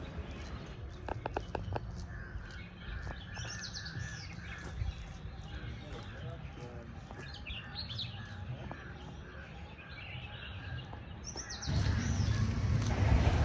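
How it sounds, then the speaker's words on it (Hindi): Many small birds chirp and tweet continuously in the distance in Pachmarhi, India, over a steady outdoor ambience that grows louder near the end. "क्या आप महसूस कर सकते हैं चिड़ियों की प्यारी प्यारी आवाज़ें."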